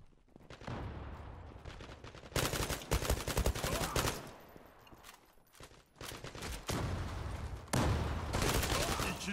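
Gunfire in the online shooter Zula on the Kız Kulesi map: loud bursts of rapid automatic fire in several clusters separated by short quieter gaps, close and harsh.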